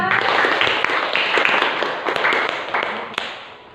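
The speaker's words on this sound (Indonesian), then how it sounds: "Ya, tepuk tangan untuk kita semua." A classroom of students clapping hands together, a dense, steady patter of overlapping claps with brief louder bursts, fairly close and sustained for several seconds without speech.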